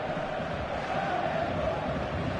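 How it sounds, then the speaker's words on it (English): A packed football stadium crowd on match day forms a dense, steady roar of many voices, loud and continuous with no single voice standing out. "The stadium is full of noise and energy."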